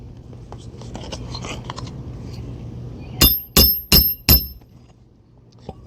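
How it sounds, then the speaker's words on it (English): Four sharp, loud hammer blows drive a nail through decking in quick succession, close by, after a stretch of quieter shuffling and handling noises. "I'm hammering just enough to make sure that I get through the decking"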